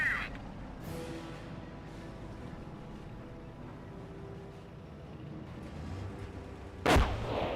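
An anti-tank gun in the World War II strategy game Company of Heroes fires and penetrates an American Pershing tank, a sharp loud report near the end over low battle rumble and commentary.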